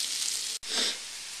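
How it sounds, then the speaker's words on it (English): Peppers and onions sizzle on a grill, a hissing, crackling frying sound that cuts out for an instant and returns a bit softer, close and without talk. "Oh yeah, got those peppers sizzling."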